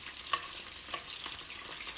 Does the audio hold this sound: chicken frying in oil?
yes